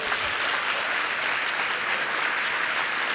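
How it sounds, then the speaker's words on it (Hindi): An audience at a Hindi religious sermon claps in loud, sustained applause that fills the whole stretch without a break. "बजाओ ताली"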